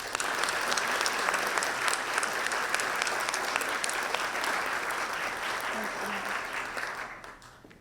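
An audience at Stony Brook University's investiture ceremony applauds steadily to welcome a keynote speaker. The dense clapping holds at an even level for about seven seconds, then quickly tapers off.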